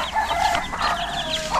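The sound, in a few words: chickens clucking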